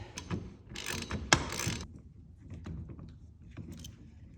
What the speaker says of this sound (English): I'm just using a 17mm socket to do so. Repeat on the other side.